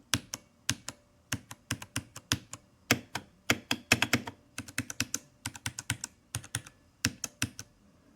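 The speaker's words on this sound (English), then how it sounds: "There is a little bit of pinging sound when I press the keys hard." Typing on a Ducky One 3 SF 65% mechanical keyboard: close, crisp key clicks in irregular bursts, some quick runs and brief pauses, with a faint metallic ping on harder presses and no talking.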